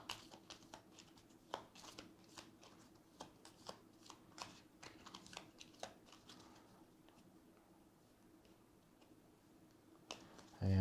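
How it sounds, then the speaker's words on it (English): Board game cards shuffled at a table, heard as a close run of crisp, rapid riffling clicks and snaps that thin out into a quieter stretch before a louder rustle at the very end. "Now we shuffle these up again"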